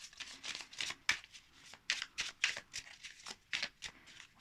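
Crisp riffle-and-slide shuffling of a Lost Hollow Tarot deck on linen cardstock, a steady run of soft papery flicks at close range with no talking.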